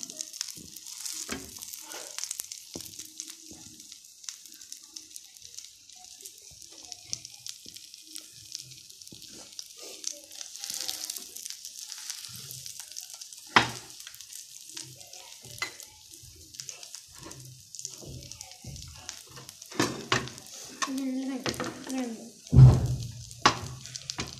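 A cheese omelet cooks over a low flame in a frying pan, giving a quiet, steady sizzle that runs throughout, with occasional scrapes and taps of a spatula and a louder clatter near the end.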